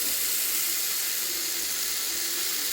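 Banana pancake batter ladled onto a hot dosa griddle gives a steady, even hiss and sizzle throughout, with no talking.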